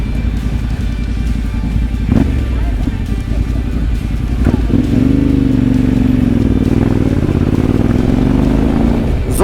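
A Husqvarna FE510 motorcycle rides with two Yamaha Tenere bikes on a camping trip through Limpopo, its engine a loud, continuous drone rising and falling in pitch as it revs, with wind roar and a few knocks and clatters.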